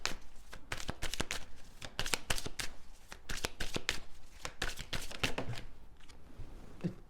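Slippery tarot cards are handled and shuffled close up, producing a rapid series of crisp riffling snaps and flutters with short pauses between bursts.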